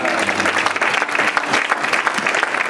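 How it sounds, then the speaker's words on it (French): Congregation at a church service breaks into loud, dense applause, a close, continuous roar of many hands clapping at once with faint crowd noise underneath. "On peut l'acclamer."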